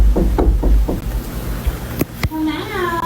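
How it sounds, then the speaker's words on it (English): A mother knocks on her daughter's closed bedroom door: four quick, firm raps close by, followed by two sharp clicks and then a voice calling out. "her mom's like knocking at the door"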